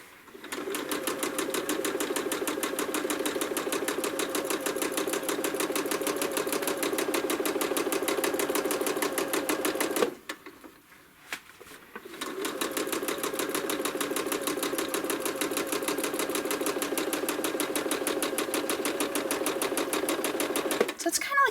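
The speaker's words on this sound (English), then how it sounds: "Now I'm going to stitch kind of free motion, just wiggling around the outside." A sewing machine hums in a fast, steady stitching rhythm while free-motion quilting wiggly meanders around appliqué feathers on a small quilt, pausing briefly midway before resuming, with a voice faintly talking over it.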